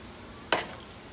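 Flour donuts fry in hot oil and are turned over, giving one brief, quiet splash and sizzle.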